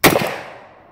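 A single sharp gunshot from an AMT Auto-mag .30 carbine pistol, loud and close, with a brief echoing tail that fades over about a second.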